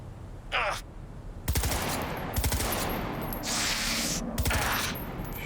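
Gunfire in Cyberpunk 2077 sounds as rapid bursts of automatic shots with bright metallic crackle, repeated several times over a busy game soundscape, loud and near.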